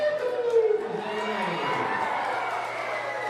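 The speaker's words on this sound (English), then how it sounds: "But how about a big cheer?" A school crowd at a community circle gathering cheers and shouts together, a broad sustained roar of children's voices at moderate distance with an adult voice briefly over it at the start.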